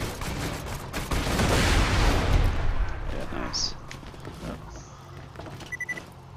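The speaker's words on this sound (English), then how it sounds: "Where are they shooting from?" Enemy gunfire in the shooter video game Borderlands 2, a dense rattling volley of shots close by that swells and then thins out into a few scattered pops and clicks.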